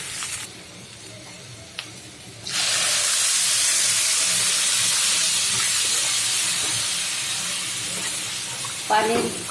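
Broth poured into a pot of frying beef for bhuna khichuri bursts into a loud, steady hiss and sizzle that carries on for several seconds after a quieter start, with no talk over it.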